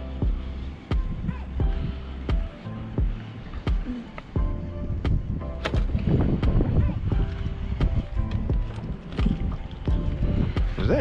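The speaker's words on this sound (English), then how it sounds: "It's just the wind is just blowing so weird." Wind gusting across a lake around a small anchored fishing boat, a steady rough rumble with knocks and clatter from the boat, close to the microphone, with people talking over it.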